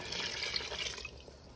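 Water pours from a cup into an Instant Pot with rice and chicken, a soft, steady trickling splash for about a second before it tails off, faint and close with no talk.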